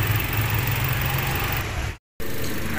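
A 2016 Toyota Avanza E engine idles smoothly with a steady, even hum up close, broken by a brief dropout of silence near the end before the idle resumes.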